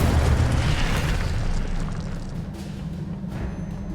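A fire spell bursts in Hogwarts Legacy with a loud whooshing roar and booming rumble, a sharp blast at the start that fades into a steady crackling burn.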